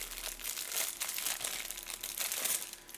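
Packaging for a Sony WCR14 wireless charging plate being unwrapped up close, a continuous loud crinkling and crumpling of plastic wrap with irregular bursts, with no talk over it.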